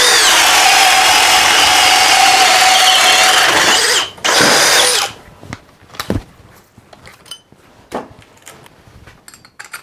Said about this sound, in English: Alright, speed 2, drilling mode.